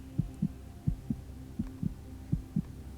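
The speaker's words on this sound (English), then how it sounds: "The only music that you hear inside is your heartbeat" Steady heartbeat thumping in pairs, about four double beats over a low continuous hum, soft and close with no voices, heard during a guided yoga nidra relaxation.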